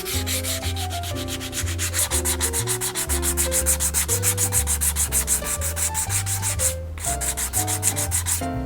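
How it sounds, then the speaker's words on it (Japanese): Sandpaper rubs steadily back and forth across a leather shoe sole in close, even rasping strokes, while a quiet melodic music track plays throughout with no speech. "とりあえず一回ざらつきを抑えるためにサンドペーパーでやすってからもう一回塗っていきます。"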